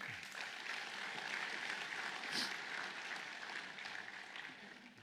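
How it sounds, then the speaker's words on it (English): An audience at the NIOSH Malaysia COSH 2019 occupational safety and health conference opening ceremony claps, a dense, even round of applause filling the hall at moderate level and tapering slightly toward the end. "a big round of applause."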